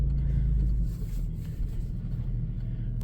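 A Chrysler Town & Country AWD minivan's engine rumbles low and steady close by, idling and rolling slowly out of a garage without any voices.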